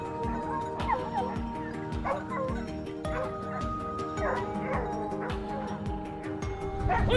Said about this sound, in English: The hound's barking